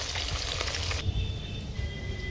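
Catla fish frying in hot mustard oil in a kadai, giving a steady, dense sizzle throughout that turns a little softer partway through.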